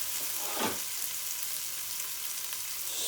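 Black beans hit hot oil in a wok for a stir fry, a steady bright hiss with a brief louder sizzle near the start, close and alone.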